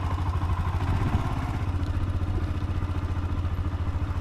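A poorly maintained rented motorcycle rumbles steadily while being ridden through Leh, Ladakh, its engine throbbing close and constant with a rough, rattling edge and no break.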